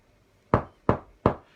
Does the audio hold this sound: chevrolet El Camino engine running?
no